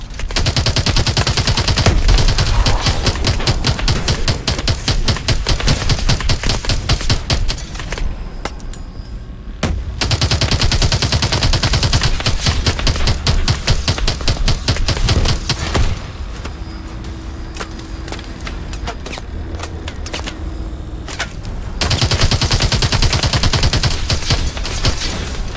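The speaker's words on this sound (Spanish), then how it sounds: "¡Disparos desde la derecha!" Loud, sustained bursts of rapid automatic gunfire with brief pauses, dense and continuous like a battle scene, with no talking, from the video game Call of Duty: Advanced Warfare.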